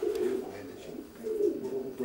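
Racing pigeons cooing in a loft, low throaty coos repeating close by in two swells over a faint background.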